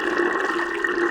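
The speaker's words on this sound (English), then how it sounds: "The water went down the drain," Water draining from a sink or tub, a steady rushing, gurgling wash of liquid that holds at an even, fairly loud level throughout with no pauses.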